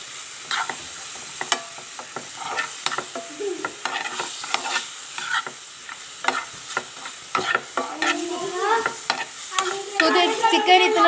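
Chicken pieces fry with spices in a pan for green chicken tikka macaroni, with repeated scraping spoon strokes over a soft sizzle that grows louder toward the end.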